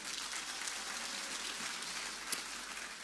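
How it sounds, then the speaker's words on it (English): Steady dense applause from a crowd at a gospel show, an even wash of many clapping hands with one brief sharper clap near the end, no voices. "Let's give him a big round of applause."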